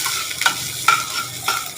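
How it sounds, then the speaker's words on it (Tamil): Curry leaves and grated coconut roasting in a pan for a buttermilk curry, a steady dry sizzle broken by three sharp scraping stirs of the spatula, close and clear with no voices. "இப்போ இதில் ஒரு பிடி கருவேப்பிலை, அப்புறம் திருகி வச்சுருக்க தேங்காய் இதெல்லாம் சேர்த்து வறுத்துப்போம்"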